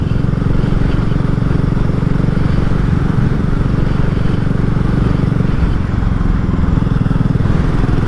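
A 2022 BSA Gold Star single-cylinder motorcycle under way on a test ride, its engine giving a steady, loud low drone with continuous rumble and wind noise throughout, no talk.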